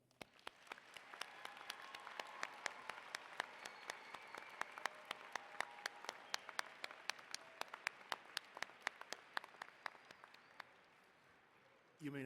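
An audience applauds at a December commencement ceremony, sustained crowd clapping with sharp individual claps standing out, gradually thinning toward the end.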